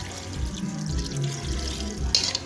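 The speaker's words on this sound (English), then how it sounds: "They add enough quantity of water." Water being poured into a pot of pepper chicken, a short close splashing and trickling flow with a brief brighter splash near the end.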